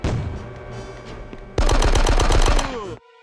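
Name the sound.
gunfire in the Christmas at Nakatomi video game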